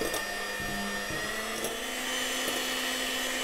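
An electric mixer whirs steadily through dacquoise batter, a loud continuous motor drone with a few brief knocks and clicks, no talking.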